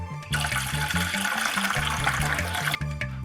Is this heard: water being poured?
yes